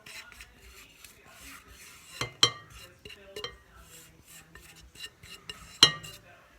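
Cookie dough is stirred together with flour and cocoa in a bowl, giving quiet rubbing and scraping strokes with a few sharp metal clinks against the side.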